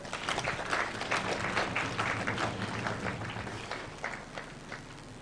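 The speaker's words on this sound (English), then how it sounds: "Let's have a round of applause." Audience applause for award winners at a Supreme Court of Kenya conference, a dense wash of clapping that holds steady and then gradually thins, moderately distant.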